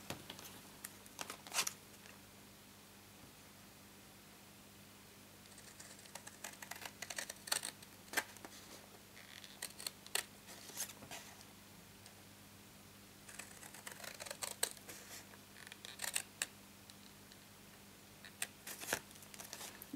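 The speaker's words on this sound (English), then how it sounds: "we need to cut on these straight lines up to the score line, but don't cut into it." Blade cutting card along straight lines for a handmade greeting card, heard as faint, scattered scraping clicks and short crisp bursts in irregular clusters over a quiet room.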